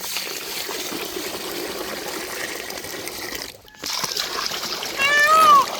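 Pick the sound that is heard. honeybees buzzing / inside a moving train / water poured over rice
water poured over rice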